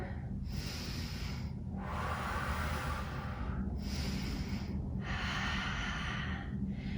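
Slow, deep breaths during a seated yoga twist in a vinyasa flow: about three close, airy inhale-exhale cycles with soft pauses between them, alone and with no talking.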